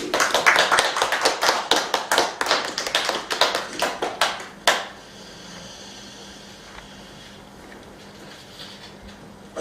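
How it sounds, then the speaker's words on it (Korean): An audience at a Buddhist temple class claps in a quick, rhythmic run of sharp hand claps for several seconds, then falls to a quiet room hush. "건강하고 힘내시라고 큰 박수"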